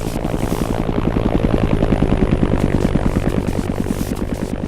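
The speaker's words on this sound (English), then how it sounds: "Eight o'clock, chopper, 200 meters." A military helicopter in the game ArmA flies close by, its steady rotor chop beating in a fast, even rhythm over a low engine drone, loud and continuous throughout.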